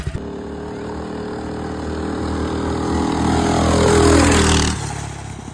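Small engine of a restored vintage mini bike running steadily at close range, a loud continuous drone that swells slightly in pitch and volume before easing off near the end.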